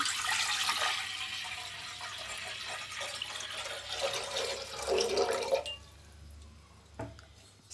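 Water pours steadily into a metal pressure cooker for several seconds, then stops, followed by a couple of faint clinks.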